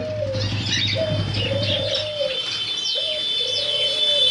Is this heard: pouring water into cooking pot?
no